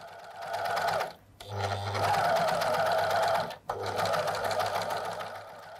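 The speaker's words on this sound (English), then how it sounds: "It's an overlock. It can use four threads. It can do zigzag." Four-thread overlock sewing machine stitching knitted fabric, a steady fast whirring hum close by, briefly stopping twice before running on, with a faint voice underneath.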